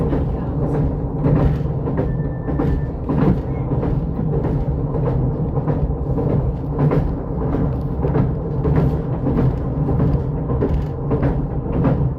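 A short Greater Anglia passenger train rumbles steadily along the rails, with rhythmic clicks of wheels over track joints and a constant loud rolling drone throughout.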